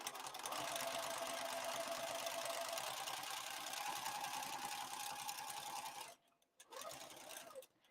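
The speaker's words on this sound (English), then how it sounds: "But that's kind of what I'm doing when I'm sewing the strap." A sewing machine stitches a strap on a Zambarau crossbody bag, a fast, steady whirring run for about six seconds, then a short pause and a brief second burst of stitching, close and alone.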